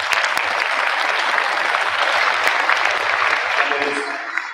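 An audience at a district honor music festival breaks into loud, dense clapping for the musicians, sustained for several seconds before easing off, with a voice briefly heard near the end.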